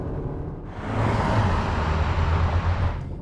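2022 Audi Q3 with a 2-liter TFSI turbo engine accelerating, a moderately loud rising engine rumble that swells after a quiet start and holds steady with no talk.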